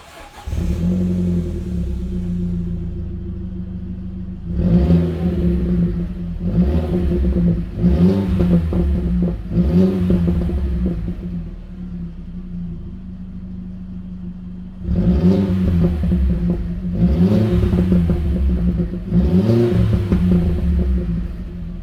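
A 2005 Audi B6 A4 1.8T Quattro with a six-speed manual and both mufflers removed idles with a loud, steady rumble, then revs sharply in two bursts of about four blips each. The throaty rises fall back to idle between bursts.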